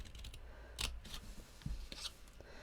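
Scissors cut paper for a handmade custom-sized gift box with a few quiet, close snips and crisp rustles over a soft, steady room hiss.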